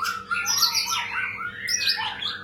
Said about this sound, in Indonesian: Dan sekali lagi burung ini tetap ngepur.